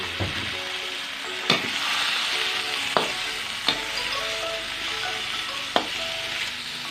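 Bacon stir-fries in a pan with a strong, steady sizzle, broken every second or two by sharp knocks of the spatula against the pan. The sound stays close and loud, and nobody speaks.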